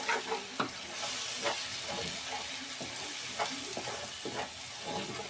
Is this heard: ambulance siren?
no